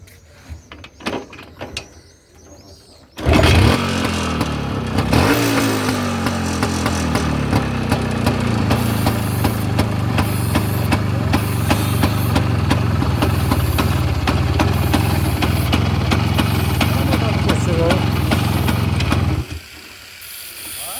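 After a quiet start, an engine starts up and settles into a loud, steady idle with a rhythmic mechanical chug, then cuts off near the end.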